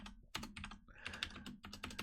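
Rapid bursts of keystrokes on a computer keyboard while entering an SQL injection string into a login form, close and fairly loud, with irregular clusters and brief pauses and no talking.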